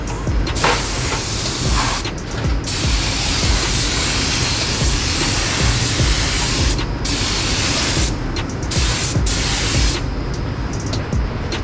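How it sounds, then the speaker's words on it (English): An Iwata LPH80 spray gun sprays clear coat onto a Porsche headlight during restoration, a loud continuous airy hiss with several brief breaks between passes. "the gun I'm using is the Iwata LPH80. These are good for these smaller spots, especially for headlights."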